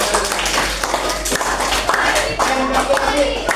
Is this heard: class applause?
yes